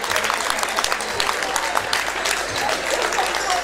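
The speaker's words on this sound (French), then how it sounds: "Beaucoup applaudi par les Nyonnais." Home crowd of Nyon supporters at a basketball game against Lausanne clapping loudly and continuously, a dense wash of applause filling the arena for the whole stretch.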